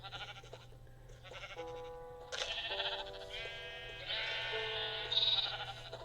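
Video game sheep bleat again and again, overlapping cries that grow louder toward the end over a constant low background hum.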